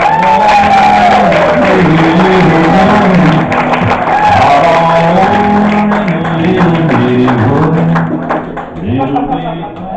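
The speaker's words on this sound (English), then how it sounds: "give a loud round of applause to Robbie Bedmore." Loud audience applause and cheering with shouts and whoops fill the space, while voices and tones sound over the crowd noise.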